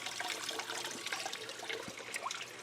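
A solar fountain splashing in a small outdoor pond, with a steady close-up trickle and patter of falling water that continues without a break.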